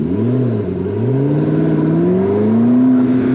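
A McLaren MP4-12C turbocharged engine revs up close and loud, pitch climbing and wavering as the driver holds it high in the rev range, steady and continuous with no talking.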